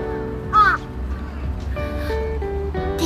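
Birds call near the Kamo River in Kyoto on a clear day, with one loud, harsh caw-like call early on and a few fainter calls after, over steady outdoor ambience and soft background voices.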